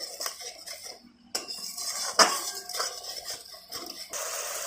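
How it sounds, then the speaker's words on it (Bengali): Okra curry stirred in a metal pan after whisked yogurt goes in, the spoon scraping and clinking against the pot in steady bursts, close and fairly loud, with one sharper clank midway and no voices. "দিয়ে আমরা আবারও ভালো করে নাড়াচাড়া করে নিচ্ছি।"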